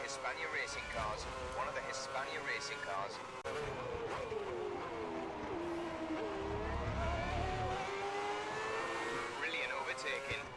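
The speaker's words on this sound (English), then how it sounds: "Coming up to one of the Hispania racing cars." A Hispania Formula 1 race car engine in the F1 2010 video game at the Australian Grand Prix in slippery conditions drones steadily with rising and falling revs, heard quietly beneath continuous commentary.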